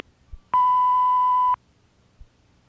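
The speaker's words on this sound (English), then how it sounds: "Leave your name and number at the tone" A single steady answering-machine beep tone sounds clearly for about one second, loud and alone against a quiet line.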